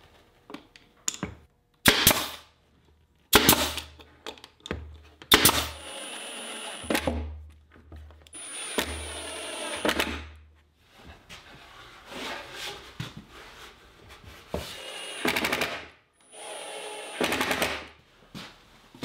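A nail gun tacks a wooden cleat and a 1/2-inch birch plywood cabinet back with 1 1/4-inch nails, firing sharp, loud bangs one at a time with pauses between shots.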